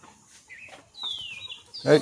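A chicken clucks and squawks in short bursts up close, with a louder squawk at the end and quiet background noise.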